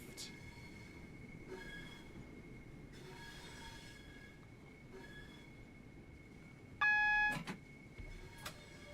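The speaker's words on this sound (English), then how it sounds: "We are an 8-car train heading for the 8-car mark." An 8-car Southeastern high-speed train in the Train Sim World video game rolls toward a stop at a platform. A steady electric hum and rail rumble carry throughout, broken by a sharp, loud squeal burst near the end, with no talking.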